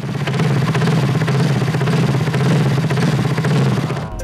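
A Honda Scoopy injection scooter with a Leofins aftermarket exhaust runs steadily nearby, a loud, throaty low rumble with a rapid pulsing beat and no talk over it.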